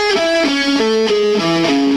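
Distorted electric guitar plays a shred lick at slow tempo, about eight distinct sustained notes stepping through the phrase with slight vibrato, close and loud with no talk.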